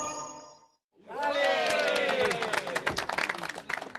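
A crowd bursts into applause and cheering as the Large Hadron Collider restarts after more than three months of maintenance, clapping loud and sustained after a brief silence, with a few shouts.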